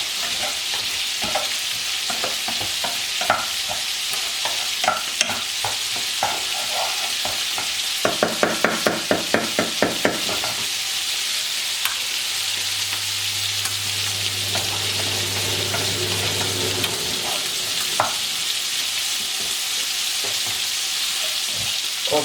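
Food sizzles steadily in a hot pan while it is stirred, with scraping and clattering of the utensil coming in bursts over the constant frying hiss and a low hum running through the middle.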